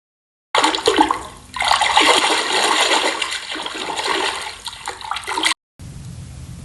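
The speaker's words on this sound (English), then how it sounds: "A deep, cold river." Deep, cold river water rushing and churning steadily up close, a loud continuous roar with surging swells, then a brief cut and a quieter stretch of flowing water.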